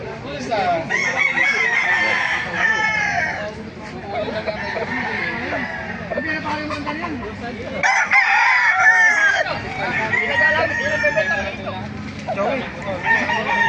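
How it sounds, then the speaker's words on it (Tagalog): Roosters crow repeatedly, loud and nearby, several calls overlapping with clucking and general market noise, at a market in Baliuag. "Gandang manok ito mga master"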